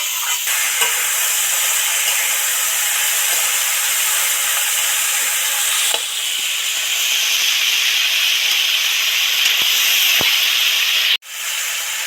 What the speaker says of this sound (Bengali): বটবটি নেড়ে নেড়ে দু চার মিনিট ধরে ধরে ভাজতে লাগে